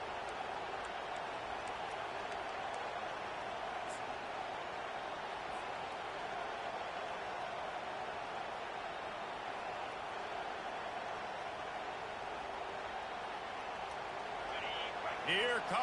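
Home stadium crowd in a college football video game, Florida at South Carolina, a steady broad roar that holds at constant level throughout, with a faint commentator-like voice under it.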